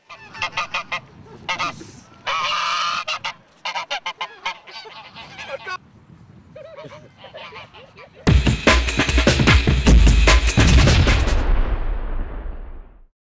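Geese honk in loud, repeated bursts, then a dense, noisy barrage of overlapping calls takes over, harsh and close.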